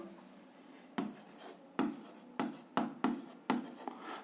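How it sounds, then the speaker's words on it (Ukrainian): A pen writes Hooke's law by hand, giving quiet scratching strokes with a handful of sharper taps as letters are formed, close up and alone. "Записуємо закон гука."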